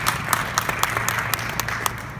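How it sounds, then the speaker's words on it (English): An audience at an Andrew Yang talk on the Freedom Dividend applauds, a dense, steady patter of many hands clapping at moderate volume throughout. "let's give a round of applause"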